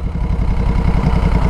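A Moto Guzzi motorcycle engine idles close by, a steady low throbbing pulse with an even, rapid beat and no voices over it.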